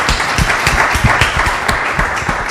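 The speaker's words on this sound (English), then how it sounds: "So can we give a round of applause for Chim and all the work she's done?" A live audience breaks into sustained applause at a talk event, dense overlapping hand claps filling the room at steady loudness from start to end, with no voices over it.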